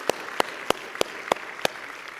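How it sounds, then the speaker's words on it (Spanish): A church congregation clapping in praise during a Christmas service, six distinct, evenly spaced claps in a slow rhythm, loud and close. "Dale un fuerte aplauso al Señor"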